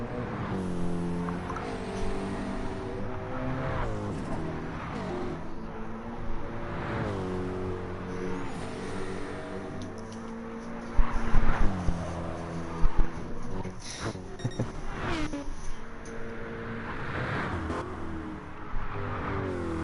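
BMW M6 and McLaren 650S GT3 race cars battle on track in a sim racing game, their engines droning and rising through the gears, with brief sharper bursts partway through.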